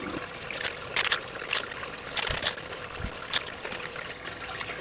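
Water flows and trickles steadily in a gold pan while Alaska paydirt is washed, with a continuous close splashing hiss and a few louder sloshing bursts.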